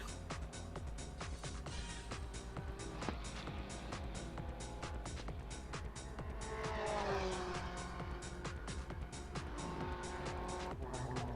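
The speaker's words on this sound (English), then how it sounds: "it's the Ukrainian Aston Martin spinning all on its own that starts us off" An Aston Martin race car in a motorsport video game spins out on track, its engine revving roughly and its tires squealing and skidding throughout, with a louder screech near the middle.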